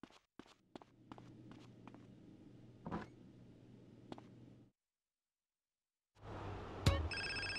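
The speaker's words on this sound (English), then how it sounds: "And there you go, there's the phone call." A few footsteps and clicks over a low hum in GTA San Andreas, a pause of silence, then a bright electronic telephone ring with repeating high tones starts up.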